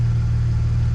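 A BMW N54 engine idling roughly as it struggles to stay running near stalling, a steady low rumbling drone with faint uneven pulsing, close and continuous with no talking.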